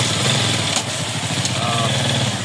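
An old motorcycle engine runs close by with a steady, buzzy putter, loud and unbroken throughout.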